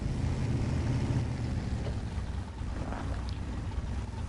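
Off-road vehicle engine in SnowRunner rumbling steadily and loud throughout, a low continuous drone with faint wind-like noise on top while trail riding on a hill.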